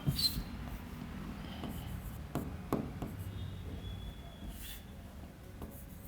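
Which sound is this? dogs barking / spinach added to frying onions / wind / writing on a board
writing on a board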